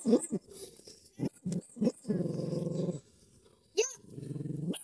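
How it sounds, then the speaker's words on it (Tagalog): A dog at a shanty home growls in several rough, rumbling bursts with short gaps between them, close and fairly loud, mixed with a few sharp barks. "Patigilin mo yung aso, dali."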